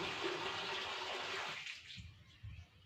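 Water gushing from a fully opened tap indoors, a loud steady splashing rush that cuts off partway through, followed by faint low knocks and quiet room sound.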